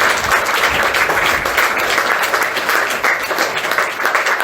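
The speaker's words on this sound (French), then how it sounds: "nous applaudissons très très fort à l'équipe pour le mouvement" Church congregation applauding loudly for the worship team, a dense, steady roar of many hands clapping close and loud from start to finish.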